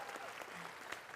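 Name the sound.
applause for Pak Jokowi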